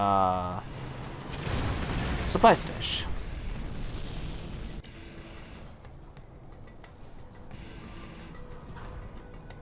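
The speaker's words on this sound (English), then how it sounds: "an artillery barrage coming in here" Deep rumbling booms of an artillery barrage in Command & Conquer: Generals Zero Hour, a heavy blast early then a lingering roar fading out, with a voice speaking over it.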